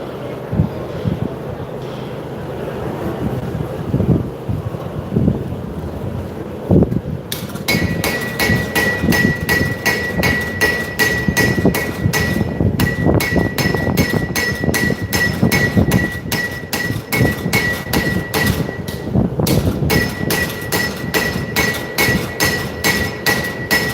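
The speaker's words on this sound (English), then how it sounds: "pull the bevels down, using a straight peen and a cross peen." Forging hammer blows on hot steel using straight and cross peens at a live show, a fast steady rhythm of sharp metallic strikes that ring close and loud, with a ringing overtone and a few irregular knocks before the pattern settles.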